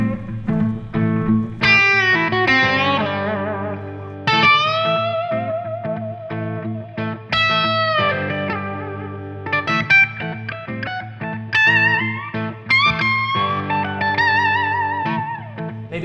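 Electric guitar through a Blackstar JJN-20R MKII amp with reverb, playing sustained distorted notes and chords that ring out and trail off, loud and close, no talking.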